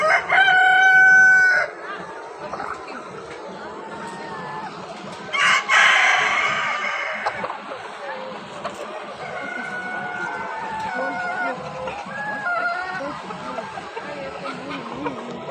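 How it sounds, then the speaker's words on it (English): Chickens in a poultry house holding about 5000 birds, roughly a tenth of them males: a rooster crows loudly and close at the start, another crows mid-way, and steady clucking and squawking from the flock fill the rest. "In this building, total 5000 birds are"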